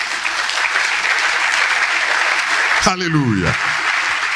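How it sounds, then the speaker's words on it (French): A church congregation claps in steady, dense applause that fills the whole stretch, loud and close, while a voice briefly calls out over it near the end. "Acclamons la parole de Dieu"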